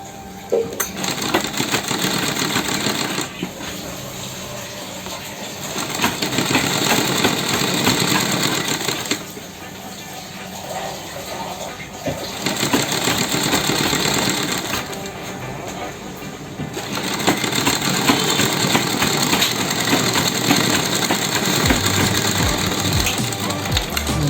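Sewing machine stitching double piping onto the reverse side of a garment sleeve, running loud and steady in a continuous mechanical whir that rises and falls in several long bursts with brief pauses between them.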